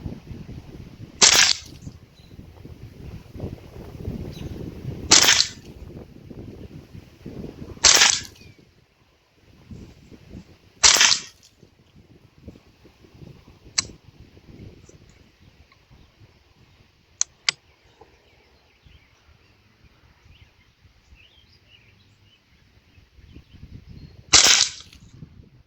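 Rifle shots fired at a target on a range, several sharp, loud cracks spaced a few seconds apart, plus one later shot, with softer handling noise in between.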